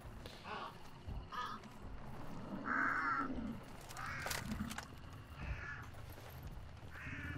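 Ravens caw in the video game Hunt: Showdown, several scattered harsh croaks at moderate distance over ambient in-game noise and occasional rustling.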